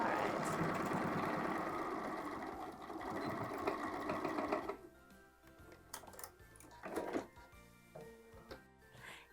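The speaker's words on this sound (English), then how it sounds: "I'm going to switch it over to the other side and we'll stitch that side seam" A sewing machine stitches the side seam of a small vinyl greenhouse piece, a fast close mechanical whirr for several seconds that stops, leaving a few handling clicks and rustles.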